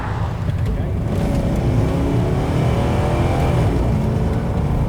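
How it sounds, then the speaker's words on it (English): A stock, unmodified VT Holden Commodore V8 rumbles loud and close in a steady, deep idle-to-rev drone, with no clear separate blips. "Part of the appeal of owning a V8 is that sound."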